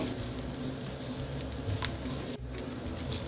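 Garlic cloves and roasted peanuts frying in a pan, a steady close sizzle with light crackling and a brief scrape of stirring near the middle.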